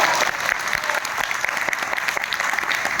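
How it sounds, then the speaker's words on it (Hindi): An audience at a regional sales meeting claps steadily throughout, a dense and lively round of applause with a faint murmur of voices underneath. "मेरे हिंदी के लिए ताली हो सकता है?"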